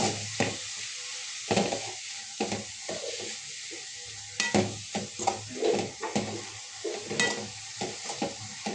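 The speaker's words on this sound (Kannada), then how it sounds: "ಒಗ್ಗರಣೆ ಒಳಗೆ ಸ್ವಲ್ಪ ಬಾಡಿಸ್ಕೊಂಡ್ರೆ ಸಾಕಾಗುತ್ತೆ" Greens sautéing in a hot pan of tempering (oggarane), with a steady sizzle and repeated scrapes and clinks of a stirring spoon against the pan, close up and with no talking.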